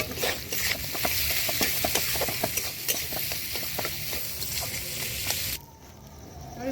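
Vegetable chop filling with salt and turmeric sizzles in a frying pan under repeated scraping stirs, a dense crackling hiss that suddenly drops away near the end.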